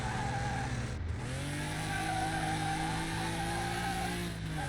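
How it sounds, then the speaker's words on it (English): A BMW in a racing video game fishtails with its tires squealing and skidding, a continuous, loud screech over steady engine drone with a brief dip partway through. "A bit of fishtail there."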